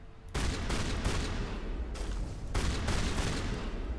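Rapid gunfire from the video game Mass Effect, a dense, loud volley of shots in continuous bursts with brief gaps, close and dominant with no talking.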